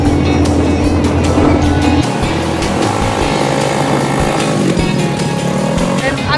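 Motorbike engine running steadily through a ride, loud and continuous with a rough droning tone and a shift in pitch partway through, with faint voices mixed under it.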